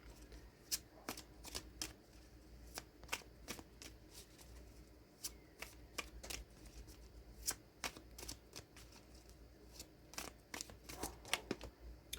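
A tarot deck is shuffled by hand before a card is pulled, giving a steady run of crisp, rapid card riffles and slaps that repeat for about twelve seconds, quiet and close.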